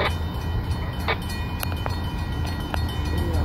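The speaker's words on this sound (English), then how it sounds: "I think this train's got two special units in the console," Freight train Q47 pulled by two MPRX locomotives rolls past at Pembroke, North Carolina, a steady loud rumble with sharp metallic clicks from the passing cars.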